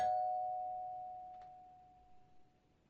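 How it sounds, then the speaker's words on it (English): A household doorbell chimes once, a single clear electronic tone that rings out and slowly decays, heard alone and at moderate distance. "somebody's at the door, which I never should have installed the doorbell"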